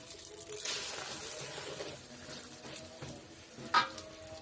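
Egg omelette frying in a hot pan while cooking soup and tofu for an evening fast-breaking meal, giving a steady soft sizzle throughout with a brief louder clatter near the end; no talking.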